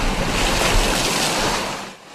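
Storm-driven sea water surges along the Sai Wan waterfront in Hong Kong during a typhoon, a loud continuous roar of surf blended with gusting wind buffeting the microphone, easing slightly near the end.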